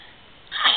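Child's sneeze, one short sharp burst that breaks in suddenly after a quiet moment, close and fairly loud.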